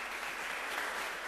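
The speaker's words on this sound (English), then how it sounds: "Can we give them all a round of applause?" Audience applause after a university panel session on renewable energy, a dense, soft wash of clapping heard alone and from a distance.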